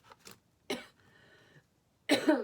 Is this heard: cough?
yes